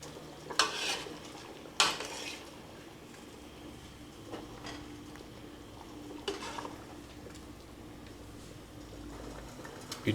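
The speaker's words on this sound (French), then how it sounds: "vous ajoutez vos cubes d'assaisonnement et vous mélangez délicatement" A spoon gently stirs seasoning cubes into a pot of fish soup, with a couple of sharp clinks against the pot early on and a soft, steady simmer and scrape underneath.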